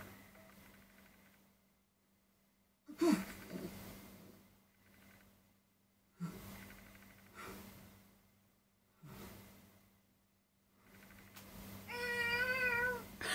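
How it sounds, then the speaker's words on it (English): A cat meows in the video game Tales of Xillia 2. Several short separated bursts lead up to a clear, drawn-out, wavering meow near the end, heard alone with no talking. "That cat."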